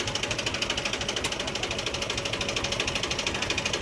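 A Mahindra 575 tractor engine runs steadily nearby with a fast, even mechanical clatter and rhythmic knocking pulse that holds at constant speed, with no voices.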